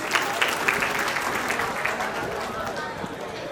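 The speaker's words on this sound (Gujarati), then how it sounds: "ભાઈ તાળીઓ પાડો ભાઈ." Steady applause from a seated crowd at a community celebration, dense and continuous throughout, with a voice speaking over it.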